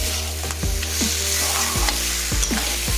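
Crab kalambu ingredients sauté in hot oil with a loud, continuous sizzle, close up. Rhythmic scraping strokes of stirring recur throughout.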